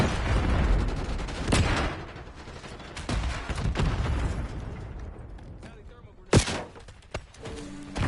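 Grenade launcher blasts and napalm bursts in Call of Duty Black Ops 6, heavy booms and crackling fire over a steady background of gunfire, with sharp loud hits near the start, middle and end, and someone talking throughout.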